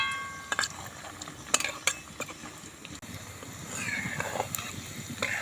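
Pantua sweets fry softly in oil in a pan while a utensil turns them, scraping and clinking against it a few times, sharp metallic taps over a steady frying hiss.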